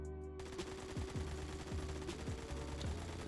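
Hip-fired automatic rifle in Phantom Forces, a rapid burst of close, punchy gunshots with regular rhythm after a short pause, loud against the game's background.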